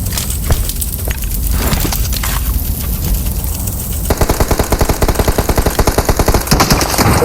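Enemy gunfire in a battle royale video game comes as loud, scattered shots, then rapid automatic bursts of evenly spaced cracks over a constant rumbling background.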